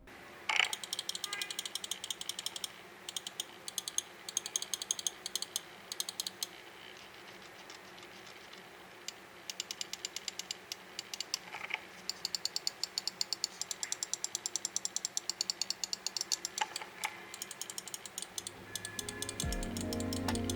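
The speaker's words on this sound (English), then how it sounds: "here's the quick sound test of the switches and the scroll" Rapid, faint mechanical clicking in dense bursts, Eweadn S9 Ultra mouse button switches and a notched scroll wheel ticking, close up and quiet.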